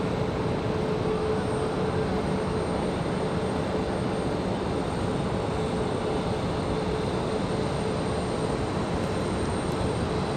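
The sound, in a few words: Delta airliner landing on runway 23 right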